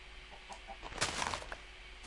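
A chicken in Minecraft clucking softly: a few short, quiet clucks followed by a brief flurry of louder burbling sounds, with no speech.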